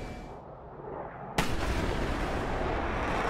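An AGM-65D Maverick missile launching from an F-16 in DCS, heard as a sudden sharp blast partway through that opens into a loud, sustained roaring rush over a low rumble.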